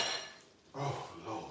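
Metal utensils clink and rattle as a bigger spoon is grabbed from a set of gold-coloured utensils, in two brief bursts of close, moderately loud clatter separated by a short pause.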